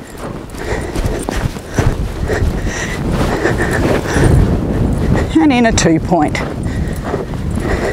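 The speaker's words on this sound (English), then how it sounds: "ask your horse for canter." A horse canters during a riding lesson, with rhythmic hoofbeats thudding under an instructor's talk and gusts of wind buffeting the microphone.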